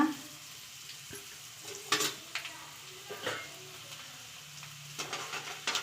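Mustard seeds, fenugreek and vadagam frying in hot sesame oil for a garlic kuzhambu, a soft steady sizzle close by, with a few sharp stirring clinks and scrapes.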